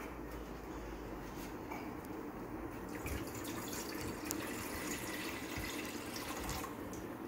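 Water runs steadily from a tap or is poured into a pot as the first step of a creamy caramel rice pudding, a continuous close hiss with faint splashing and no talk.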